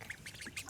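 Ducks on a homestead give several short, faint quacks, spaced unevenly and heard from a slight distance, with no talking.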